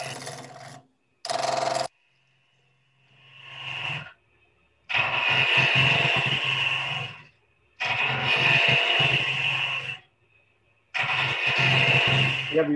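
Wood being shaped into a spoon on a lathe gives loud, rasping bursts of cutting, each lasting a couple of seconds and separated by short silences, with a faint motor hum between them.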